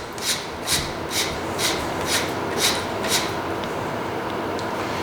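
Fox mountain bike rear shock air can being screwed on by hand: a repeated soft rasping rub at a steady rhythm, about one stroke every half second, close and fairly loud over a constant noisy background.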